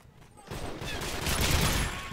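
Rapid gunfire bursts in the video game Modern Warfare 3, beginning after a short lull and building into sustained, loud automatic shooting with overlapping shots.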